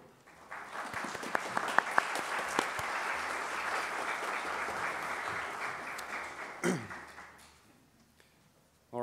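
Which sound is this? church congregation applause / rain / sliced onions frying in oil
church congregation applause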